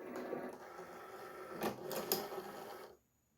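A vinyl cutting machine cutting a 3D puff vinyl design, a steady mechanical whir with a few sharper clicks of the carriage. It runs close and fairly quiet, then stops abruptly near the end.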